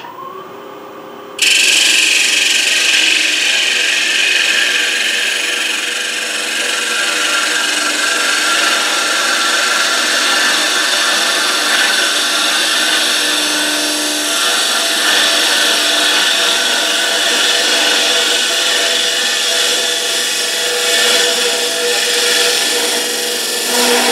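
A hollowing tool makes a light smoothing pass inside a turned wooden hollow form, a steady close scraping and rubbing hiss. It starts abruptly after a short quiet opening and continues at an even level throughout.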